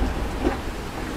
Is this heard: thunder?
yes